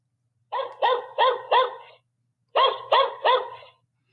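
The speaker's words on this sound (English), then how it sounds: "dog barking." A robot toy's speaker plays a recorded dog barking, two close, loud bursts of four and three evenly spaced barks separated by a short pause.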